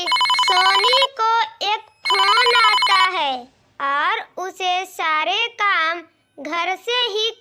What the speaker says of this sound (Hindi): तभी सोनी को एक फोन आता है